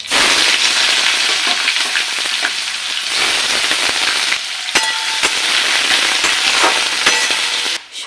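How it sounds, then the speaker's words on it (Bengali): Onion frying in hot mustard oil in a wok, with bay leaf, whole cumin and dried chillies, making a loud, dense, continuous sizzle and crackle with occasional sharp pops, close up and without voices. "পেঁয়াজটা ভাজা হয়ে গেছে"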